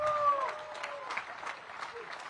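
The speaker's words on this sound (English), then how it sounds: "Let's give them a round of applause" A fairly distant crowd at a Bassmaster Elite Series bass fishing weigh-in on Lake Oahe claps for the host Chamber of Commerce, scattered, moderately quiet applause with a voice trailing off at the start.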